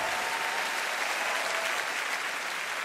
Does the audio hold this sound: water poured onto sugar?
no